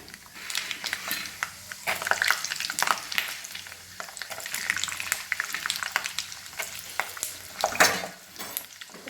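Peanuts frying in oil with cumin and mustard seeds give a dense, close sizzle and crackle, broken by frequent stirring scrapes.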